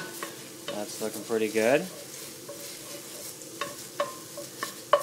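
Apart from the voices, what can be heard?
garlic frying in a pan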